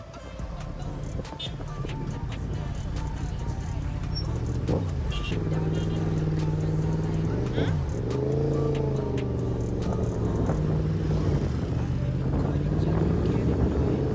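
A Yamaha MT-10 motorcycle engine revs up through the gears in rising sweeps, loud and close, with wind rush over the microphone.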